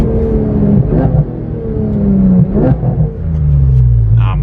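A car engine drones steadily from inside the cabin while driving, a loud low rumble whose pitch rises and falls with the throttle, with no one speaking.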